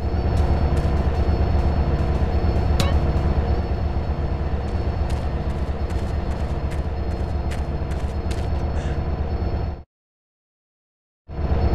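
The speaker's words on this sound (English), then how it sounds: "Go check out the train, CJ." A train in the video game GTA San Andreas rolls along with a steady, continuous rumble and clatter, loud and up close, with faint metallic clicks on top before the sound cuts out abruptly near the end.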